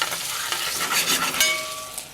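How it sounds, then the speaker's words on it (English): Gala apples sizzle and fry in a pan of olive oil and butter, a close, continuous crackling hiss with a few soft stirring scrapes. "we'll add a little bit of butter in with the apples, and the butter helps kind of speed the caramelization process along"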